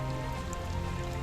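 Steady rain falling outdoors at a pike fishing spot, a dense even hiss with occasional drop patters, constant and close.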